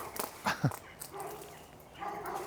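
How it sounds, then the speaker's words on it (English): A dog barks a few times outdoors near a wooded graveyard campsite, sharp yips and barks early on, then quieter rustling and faint background sound. "I think that dog's barking because of us"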